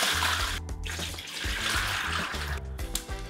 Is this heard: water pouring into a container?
yes